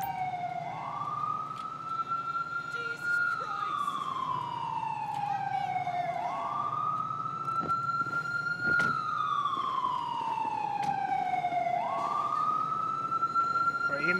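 Ambulance siren in GTA 5, a loud wailing tone that slowly rises and falls in repeated cycles close by, with engine noise underneath.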